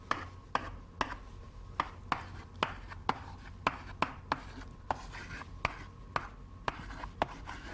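Marker or chalk strokes on a board sketching a packet diagram, steady rhythmic taps and squeaks about twice a second, close and fairly clear, with no talking.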